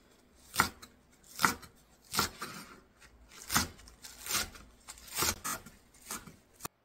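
A knife chops green onions into 1-2 cm pieces on a board in a series of sharp, fairly evenly spaced cuts, about eight strokes, close and clear.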